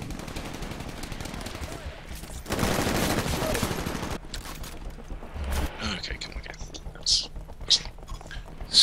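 Rapid bursts of an amped light machine gun in the shooter Titanfall, loud and sustained for a couple of seconds amid game noise, followed by scattered quieter effects and clicks; a voice speaks over the action.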